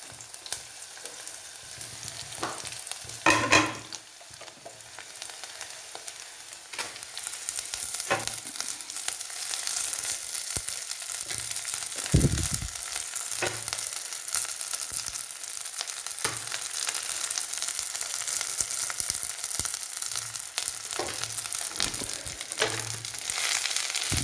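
Drumstick leaves frying in a pan for erissery make a continuous sizzle with intermittent stirring scrapes and clinks, steady and close for a long stretch, with no talking.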